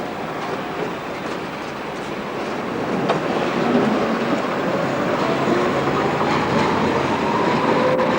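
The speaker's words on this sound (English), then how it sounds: "36 coming in now." A Budapest tram from 1989 arriving, its rolling wheels and rail noise building steadily louder over several seconds, with clicks and a faint wheel squeal as it draws close.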